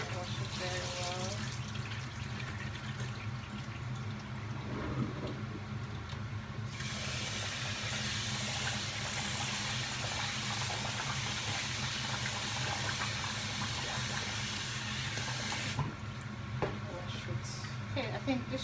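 Rice is rinsed under a running tap in a pot, with steady hissing water flow for the full stretch, louder and brighter in the middle section, with no voices.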